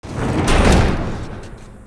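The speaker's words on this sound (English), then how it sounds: "Barricade the door." A heavy door in The Last of Us is shoved and barricaded, giving a loud scraping slam with a thudding impact, then a fading rumble over roughly two seconds.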